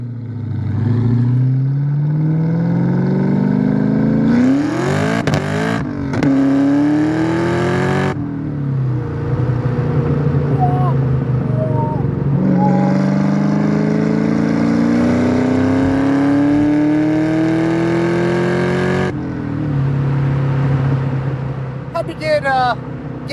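A 2003 Ford Mustang Cobra engine revs hard and climbs in pitch through repeated gear changes, loud and close, accelerating with brief drops between pulls.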